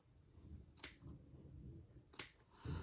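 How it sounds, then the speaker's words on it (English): Scissors snipping into the curved gusset seams of a fabric clutch, giving two sharp, distinct snips about a second apart over quiet room noise. "put on these little curves here on your little gussets, putting some snips"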